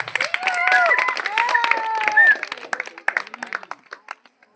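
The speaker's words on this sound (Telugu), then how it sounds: "అందరూ క్లాప్స్ కొట్టాలి" Crowd at a village Sankranti stage event claps for guests invited up, a sustained spatter of applause fading to sparse claps, with people talking throughout.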